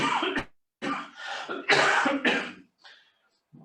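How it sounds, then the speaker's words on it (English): Someone coughs and clears their throat repeatedly in several rough bursts, close and fairly loud, with short pauses between. "I apologize for all this coughing"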